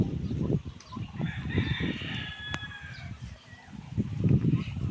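A rooster crows once, clear and fairly close, on a country chicken farm set in a coconut grove, amid ongoing clucking and scratching from other fowl nearby.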